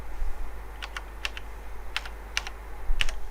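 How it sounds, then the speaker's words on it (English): Keys clatter on a computer keyboard in a few quick close bursts over a low steady hum, typing a part number into a search while diagnosing an HP laptop motherboard. "I just type here"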